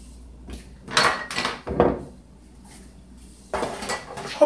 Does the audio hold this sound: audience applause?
no